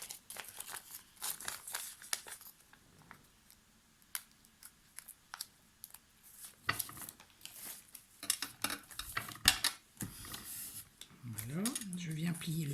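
Scissors snip the corners of a paper pouch made from flower wrapping, giving a few short crisp cuts between soft crinkling and handling of the paper.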